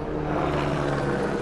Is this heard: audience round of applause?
no